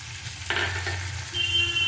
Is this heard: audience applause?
no